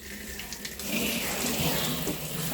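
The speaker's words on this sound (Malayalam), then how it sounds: "ഇനി ഫസ്റ്റ് നമുക്ക് വെള്ളം ഒഴിച്ചൊന്ന് കുതിർത്താം." Water pours steadily into a fish tank to soak it, a close splashing gush that grows fuller and louder after the first second and keeps running continuously to the end.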